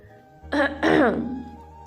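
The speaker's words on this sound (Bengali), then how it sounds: "একটা নকল কাশি দিল" A single deliberate fake cough and throat clearing, close and fairly loud, a short rough rasp followed by a longer voiced grumble that trails off, with no other sound around it.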